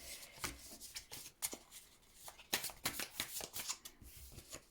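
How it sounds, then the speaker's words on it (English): Tarot cards are shuffled in a quick series of crisp riffling bursts, close and fairly quiet, with no talking. "let's just give it a little bit more of a shuffle"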